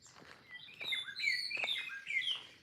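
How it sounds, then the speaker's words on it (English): Several birds chirp and sing in a field of banana plants, bright overlapping tweets and short whistled calls, fairly close and clear with no talking. "The birds, it's beautiful."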